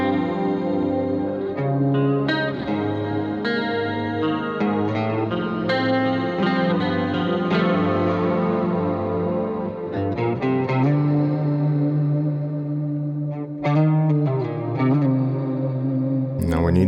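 Guitar played through a BOSS GT-1000 effects unit with reverb added, a run of sustained, shimmering chords and single notes with chorus and distortion that ring out into a lingering wash, loud and continuous throughout.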